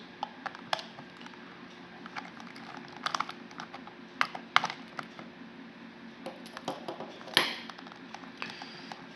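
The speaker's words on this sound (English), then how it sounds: "First, remove these 5 screws here." A small screwdriver works screws out of a wireless PS3 controller, giving sparse light clicks and small scraping ticks scattered through a quiet room, close and fairly faint.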